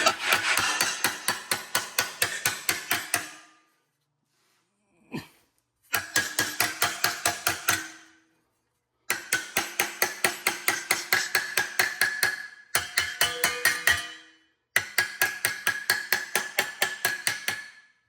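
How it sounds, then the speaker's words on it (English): A hammer strikes a TIG-welded metal part clamped in a vise. Rapid, sharp, evenly spaced blows land in several bursts of a few seconds each, separated by short silent pauses and one lone hit. "Hammer."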